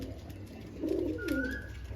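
A Madras pigeon gives a short, soft coo, a single rolling call heard faintly at close range over quiet background hiss.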